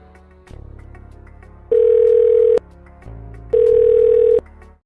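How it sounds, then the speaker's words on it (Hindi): A telephone ringback tone sounds over a call connection: two long, loud, steady beeps separated by a pause, clean and alone against a faint line hum. "अब लगाता हूँ निखिल को फ़ोन"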